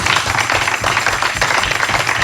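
A church congregation claps and acclaims in a short, steady stretch of loud, dense applause, with indistinct voices blended into the clapping.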